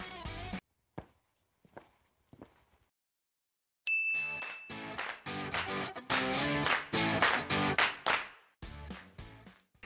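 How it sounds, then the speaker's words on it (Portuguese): Short channel intro jingle on a Portuguese-language biology lesson: a few soft isolated tones, then a bright chime and a loud, rhythmic run of punchy musical hits and stabs. "roda essa vinheta!"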